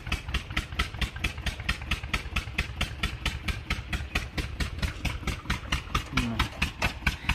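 A motor-driven pump for irrigation water runs steadily, its engine chugging in a fast, even rhythm of regular pulses, close and fairly loud throughout with no talk over it.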